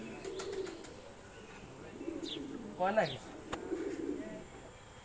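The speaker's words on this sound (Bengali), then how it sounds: "কবুতর গুলো অনেক দামি" Pigeons cooing at a shrine courtyard, soft low burbling coos with a brief higher call near the middle, fairly faint and mixed with people talking nearby.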